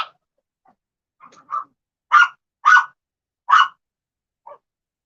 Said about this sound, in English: Sorry y'all hear the dog going crazy.